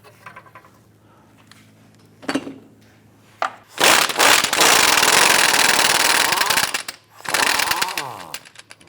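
A power tool spinning off a nut on the rear axle of a 2008-2013 Nissan Rogue, with a few brief bursts and then a loud sustained rattling impact run, close by, followed by a further burst.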